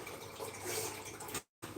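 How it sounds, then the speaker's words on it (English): Filtered water pours steadily into a pot holding tomato paste, a faint continuous splashing trickle that cuts off abruptly near the end. "9 ounces of filtered water going into the pot"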